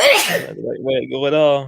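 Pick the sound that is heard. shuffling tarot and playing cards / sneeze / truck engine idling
sneeze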